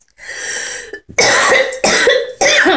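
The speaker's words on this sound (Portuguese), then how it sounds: "essa tosse é um negócio que estava acompanhando o inverno inteiro" Three loud, harsh coughs close to the mic, preceded by a short throaty sound, each burst abrupt and separated by brief pauses.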